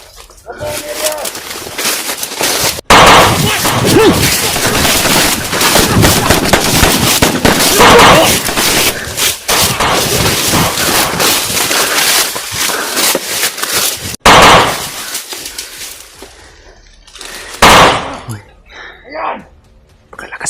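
Loud gunfire in a video game: bursts of shots and sharp cracks packed closely together for most of the stretch, then thinning to a few isolated blasts near the end, with shouting voices mixed in.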